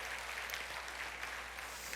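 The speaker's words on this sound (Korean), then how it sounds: "감사의 박수 하겠습니다" Church congregation applauding in thanks during a Sunday worship service, a steady dense patter of many hands clapping at once, even and sustained throughout with no voices over it.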